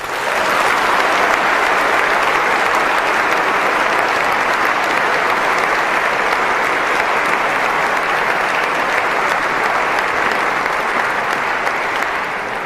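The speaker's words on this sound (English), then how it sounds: "I think we owe them a round of applause for that." A debate audience applauds, dense sustained clapping from a large crowd at full volume for the whole stretch, with no speech over it.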